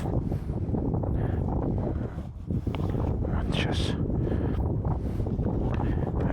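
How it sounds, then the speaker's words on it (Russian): Outdoors in Iran on the road toward the border, wind buffets the microphone in a constant heavy low rumble with gusty swells, while a voice talks briefly over it. "А то так в грудак сюда дует ветер."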